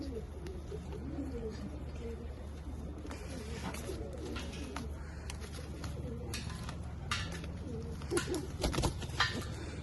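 Pigeons coo in soft, throaty repeated calls amid a steady background hum, with a few light clattering knocks and rustles nearby.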